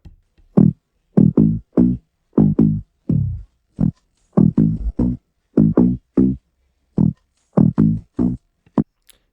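Short, punchy bass notes repeat in a choppy rhythm with gaps of silence between them. Each note swells oddly, like it is played backwards.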